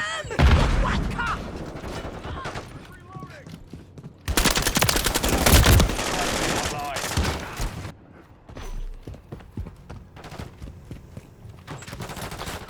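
Dense bursts of automatic gunfire and rapid shots in Call of Duty Modern Warfare 3, loud and sustained across the whole stretch, with a pause and then renewed firing, with game sounds mixed in.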